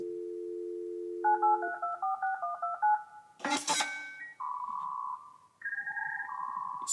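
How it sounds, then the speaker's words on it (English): Telephone sounds used as an effect in a music track: a steady dial tone, then a rapid run of keypad dialing beeps, a burst of noise, and sustained ringing tones, loud and clean with no voices. "First like a telephone call,"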